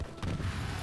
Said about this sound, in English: one of the explosions has revealed another passage